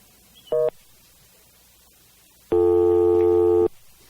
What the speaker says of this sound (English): have an extra dial tone there just for fun